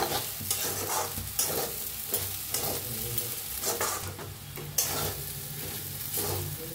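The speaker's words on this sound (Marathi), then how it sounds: "तर साबू तांदूळ भाजलेला आहे" Sago pearls roast in a pan while being stirred, giving a continuous dry sizzle broken by repeated scraping strokes of the spoon, close and fairly loud with no talking.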